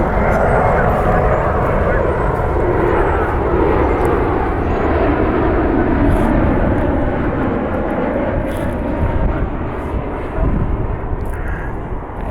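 A Spirit Airlines Airbus airliner passes near Cleveland Hopkins airport, a loud, close, sustained jet roar that fills the whole stretch and eases slightly toward the end; no speech over it.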